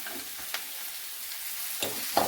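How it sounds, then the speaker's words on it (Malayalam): Cauliflower florets frying in a pan with browning onions for pulao, a soft steady sizzle under a few scraping stirs, close and fairly quiet, with no voices. "ഇനി നമ്മൾക്ക് ഈ ഗോബി ഫൂൾ ഗോബി അങ്ങോട്ട് ഇട്ട് കൊടുക്കാം"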